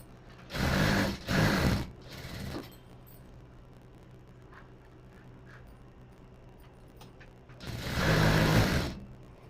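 Sewing machine stitching a churidar sleeve near the shoulder, two loud close bursts of rapid mechanical whirring, then a quiet stretch with faint handling noises, then another sustained run of stitching.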